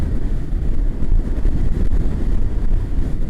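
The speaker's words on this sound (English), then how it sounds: "it is windy. You can probably hear it." Wind buffets the microphone outdoors on a blustery day out on the trails, a continuous loud low rumble with gusty surges and no speech.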